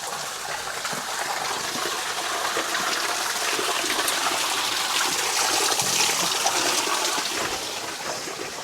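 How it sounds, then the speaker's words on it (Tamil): A small waterfall in cool hill country near Haputale, Sri Lanka, rushing steadily and fairly close, a dense unbroken splash of water with no voices. "இந்த குளிருக்கு சின்ன நீர்வீழ்ச்சி ஒன்று வருது."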